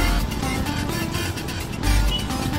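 Dense road traffic jam on a local street, a steady wash of car and motorcycle engines rumbling close by with no clear pauses, loud and continuous throughout.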